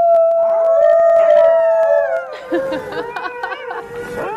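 A dog howls in a long, wavering drawn-out cry on a TV program, joined by overlapping whines and yelps toward the end; loud and close.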